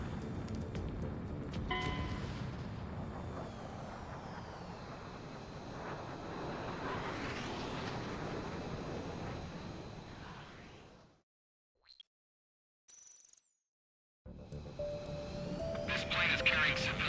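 A jet aircraft in the combat flight game Ace Combat 7 roars steadily under radio chatter. The engine noise drops out briefly near the end, then returns.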